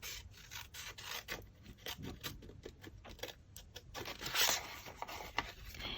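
Scissors cut through a folded paper envelope close by, giving short rasping snips and scraping rubs in a quick irregular run, with no talking.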